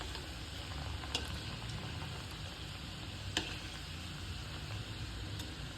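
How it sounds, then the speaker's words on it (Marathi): Balushahi frying in hot oil over a low gas flame, a steady dense sizzle and bubbling that runs unbroken and fairly loud throughout, with a few faint clicks of utensils. "छान खरपूस अशा बारीक गॅसवर आपण मस्त आतपर्यंत भाजून घेऊ."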